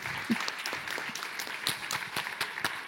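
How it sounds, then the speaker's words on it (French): Audience at a Neurostories 2025 talk event clapping, a moderate, slightly distant patter of scattered hands lasting a few seconds. "Applaudissons-la."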